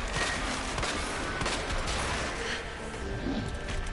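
Gunfire in the video game Resident Evil 2 comes as a dense, loud burst of shots and impacts over game noise, continuous across a few seconds.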